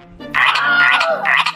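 A frog croaks in a loud, close burst of rough, buzzing calls, breaking briefly and then starting again, with no voices over it.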